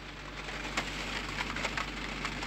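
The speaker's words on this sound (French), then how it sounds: "Il pleut encore! Il pleut toujours!" Rain falls steadily as a soft continuous hiss with scattered drops pattering on a surface, fairly close and even, with no voices.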